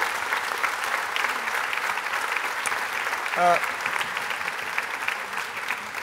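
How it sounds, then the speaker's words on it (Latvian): Sustained audience applause fills a concert hall during a song festival church service, steady and dense for the whole stretch, with a brief tonal voice-like sound rising midway. "sirsnīgi aplausi arī viņam"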